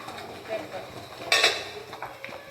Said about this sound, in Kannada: ಈಗ ತೆಗಿತೀವಿ, ಮುಚ್ಚಳ ತೆಗಿತೀವಿ ಬಟ್ಟೆ